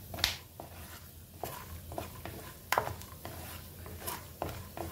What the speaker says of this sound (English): So you hear that crackling sound of the groundnuts, right?